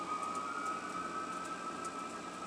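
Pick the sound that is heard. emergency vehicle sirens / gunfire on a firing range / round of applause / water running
emergency vehicle sirens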